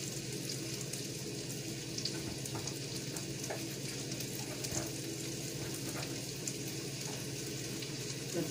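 Bacon sizzling and frying steadily in a pan, a continuous crackling hiss with no talk over it.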